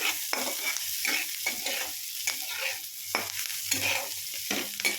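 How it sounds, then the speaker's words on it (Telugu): Onions and tomato pieces frying in a pan for a tomato curry, a continuous sizzle broken by repeated scraping stirs of the spatula, close and fairly loud with no talking. "కొంచెం ఇలా బ్రౌనిష్ వచ్చిన తర్వాత మనం టమాటా పీసెస్ కూడా వేసేసుకున్నాము"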